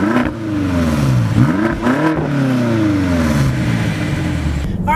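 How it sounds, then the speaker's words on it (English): A 2018 BMW X6M engine starts and revs up close, swelling in pitch twice before settling into a loud, steady rumble, no voices. "hit the engine start button, and roars to life"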